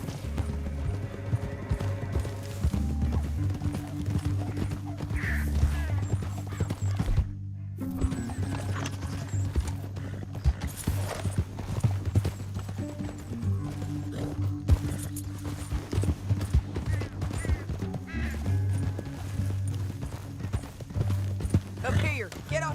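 Horses trot with rhythmic clip-clop hooves in a Red Dead Redemption 2 western canyon scene, layered under game music, with characters talking throughout.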